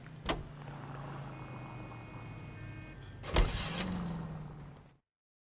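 A car engine in the L.A. Noire video game hums steadily at a low pitch, with a sharp thud near the start and a louder burst of engine noise around the middle. No one speaks.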